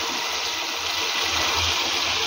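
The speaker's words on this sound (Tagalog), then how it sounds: "Dagdagan pa natin yan ng konting tubig." Water poured into a hot pan of frying pork steak, a loud continuous hiss and gush that fills the whole moment without any talk.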